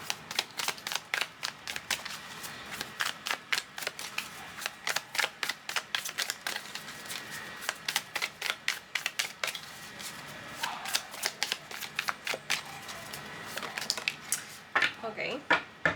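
Tarot cards being shuffled and drawn for a card reading, giving dense rapid papery clicks and flutters in quick bursts throughout, close and fairly quiet, with no talking.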